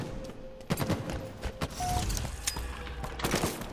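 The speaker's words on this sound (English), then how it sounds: "Right side, shooting me." Scattered gunfire from a video game SWAT match, several sharp shots and short bursts over a steady background hum, fairly close, with no voices over it.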